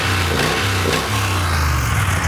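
A 1700cc parallel-twin motorcycle engine fitted with a big bore kit revs up and down close by, deep throaty blips rising and falling over a loud rumbling idle.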